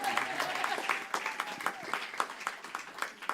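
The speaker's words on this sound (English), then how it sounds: "clap for our youth" Scattered clapping and cheering from a church congregation at a spiritual center, applauding its young people, with a voice or two calling out over the claps; moderately loud and close.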